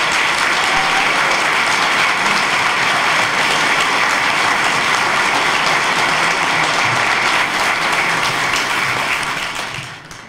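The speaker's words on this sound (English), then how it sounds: "If we could give our veterans one more round of applause." Loud, dense audience applause honoring veterans at a Veterans Day ceremony, a sustained wash of many hands clapping that holds steady for about ten seconds before tapering off at the end.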